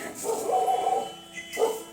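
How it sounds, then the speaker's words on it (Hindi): A dog barks in a rural garden in Uttarakhand under cloudy skies: two short barks, one early and one near the end, at moderate distance with a faint background hum. "डॉगी भी भौंकना शुरू कर दिया।"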